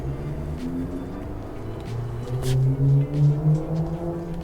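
A 1963 Ford Thunderbird convertible with a 390ci V8 runs nearby, a steady low idle that swells into a few deeper revving pulses toward the end.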